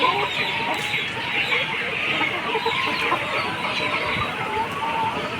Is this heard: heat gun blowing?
no